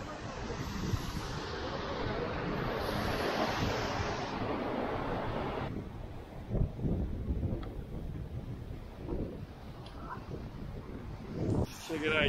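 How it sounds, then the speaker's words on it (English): Steady broadband rush of a stream and waterfall near Rishikesh, India fills the clip, loud and close at first, then softer, with a voice talking over it. "Super chill little stream."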